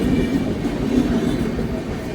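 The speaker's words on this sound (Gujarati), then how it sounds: "ત્યાં તો ભાઈ ટ્રેન આવી ગઈ" A train rumbles steadily past a railway crossing at close range, a continuous heavy rolling noise with no voices.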